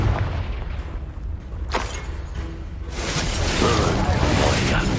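The Confringo fire spell in the Hogwarts Legacy video game bursts out with a sharp whooshing blast, followed by a rumbling swell of fiery noise and combat effects.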